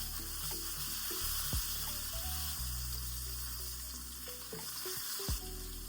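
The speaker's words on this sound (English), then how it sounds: "Make sure that you sear the ends of your meat." Beef short ribs sear in a hot pan, giving a continuous close sizzle with a couple of sharp knocks partway through, heard alone without talk.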